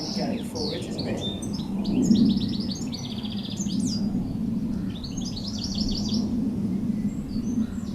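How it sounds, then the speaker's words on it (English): A goldfinch sings outdoors in rapid bursts of bright, tinkling twitters and buzzy trills, repeated phrases standing out over a low rumbling background. "That goldfinch is really going for it, isn't it?"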